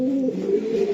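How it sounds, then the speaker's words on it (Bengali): A female racing pigeon of foreign bloodline gives one steady, low, drawn-out coo, close and alone for about a second. "বিদেশি ব্লাডলাইনের একটা মাদি কবুতর মাদি কবুতর।"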